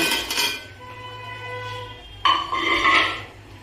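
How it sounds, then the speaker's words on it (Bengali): Fried chicken pieces tipped into a pan for garlic chicken give a couple of clattering metallic clinks and scrapes, close and fairly loud, with a sharper burst of pan noise near the end and no voices. "এবার আমি এর মধ্যে ভেজে রাখা চিকেনগুলোকে সব দিয়ে দেব।"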